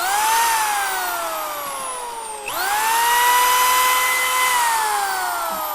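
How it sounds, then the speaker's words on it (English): A 1/2-inch corded electric drill spins freely with no load while powered from a portable power station, its steady high motor whine dipping briefly mid-run before rising and holding again, loud and close with no talk. "But let's see what this 1/2-inch drill will do."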